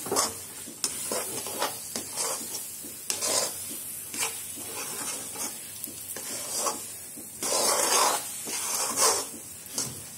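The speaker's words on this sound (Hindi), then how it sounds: "इसको अच्छे से मिलाते ही रहना चम्मच चलाते ही रहना" A spoon stirs a raw coconut barfi mixture in a pan, with repeated scraping strokes and a soft sizzle, the rhythmic swishes rising and falling at a moderate, close level.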